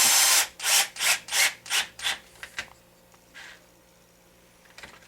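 Repeated rasping strokes of a hand tool tightening screws on an HPI Baja SS RC car chassis, about seven close, even strokes that fade out, then a couple of faint later sounds.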